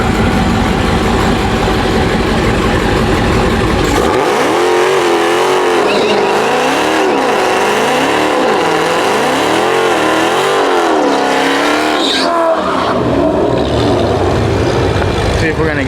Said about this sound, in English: We're gonna try to get a bigger burnout.